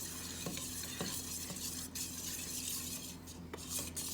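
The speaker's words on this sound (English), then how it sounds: "So now we're just whisking this together." Three milks whisked together in a bowl for a tres leches cake, rhythmic clinking whisk strokes against the bowl over a low steady hum, fairly quiet and without talk.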